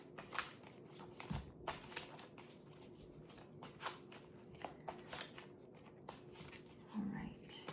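Tarot cards are shuffled by hand in a quiet room, giving soft riffling bursts and flutters over several seconds, with a faint low thump near the start and a brief murmur toward the end.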